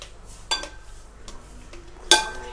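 A peanut-dressed salad with mint leaves and black pepper is tossed in a bowl, with two sharp clinks of a utensil against the dish standing out over soft rustling and scraping.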